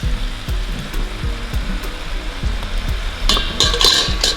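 Sliced peppers and onions sizzling in a pan with chicken gizzards for pepper gizzard, a loud steady fry with rhythmic scraping stirs and a brighter crackling burst toward the end.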